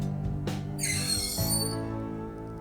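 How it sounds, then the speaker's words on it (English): Gas charge hissing into an ISI whipping siphon during bitters making: a close, high, squeaky hiss swells in after a couple of soft clicks and holds steady, then tapers away over a low background hum. "And you should be able to hear the gas go in once you get a good seal."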